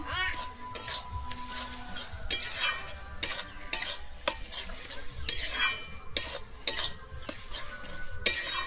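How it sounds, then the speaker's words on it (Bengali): Pointed gourd bharta being mixed by hand with raw mustard oil, giving a steady wet stirring and squelching with occasional sharp clinks of a utensil against the bowl, close and moderately loud throughout. "তেলটা দিয়ে আমি আবারও খুব ভালোভাবে মিশিয়ে নিচ্ছি।"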